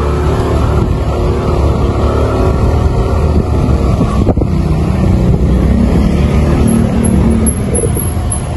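A steady, loud engine roar with rumbling wind buffeting runs throughout, like riding along on a motorbike, with a brief thump midway.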